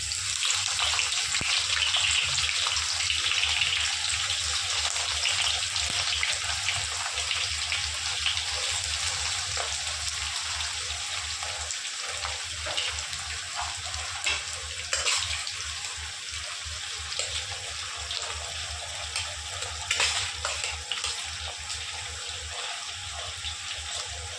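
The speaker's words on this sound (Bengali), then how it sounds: "পেঁয়াজটা একটু ভাজা ভাজা করে নেব" Chopped onion frying in hot oil after a black cumin tempering, a steady close hiss and crackle of sizzling that runs without pause and fairly loud, with no talking over it.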